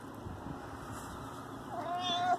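A cat on a farm porch gives a single short, faint meow near the end, against a quiet outdoor background.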